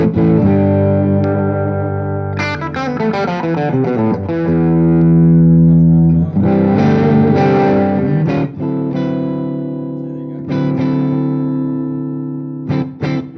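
An electric guitar played through an amp-style effects unit with the gain turned up rings out in distorted sustained chords and quick note runs, loud and close, with no talking.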